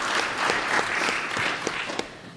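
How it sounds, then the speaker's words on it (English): Audience applause for a rural education panel, a dense steady wash of clapping hands that holds evenly throughout and sounds close and full, with no one speaking over it. "Let's give our panelists a big round of applause."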